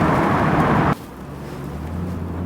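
1965 Ford Mustang convertible with a 289 V-8 and 2-barrel carburettor accelerating on a freeway, loud engine and wind roar that drops abruptly after a second into a lower steady hum.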